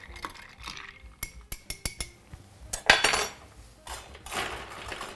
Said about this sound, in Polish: Wszystko delikatnie mieszam.